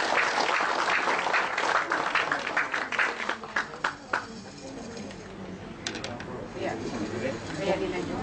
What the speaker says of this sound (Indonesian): Beri tepuk tangan dong buat Ibu Yuli.